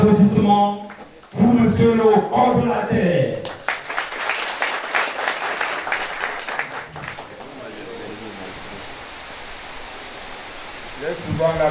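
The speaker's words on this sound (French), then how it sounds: "un tonnerre d'applaudissements pour monsieur le coordonnateur" Audience applause bursts out after the coordinator of a development committee launch is announced, preceded by a few seconds of talking, then a sustained, broad wash of clapping that gradually thins and fades toward the end.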